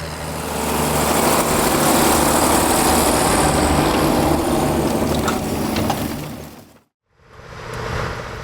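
A John Deere 8850 tractor from 1982 with a 15.6-litre V8 engine runs at a ploughing day in Sharon Springs, New York, its loud, steady engine drone filling the scene before a brief cut and return near the end.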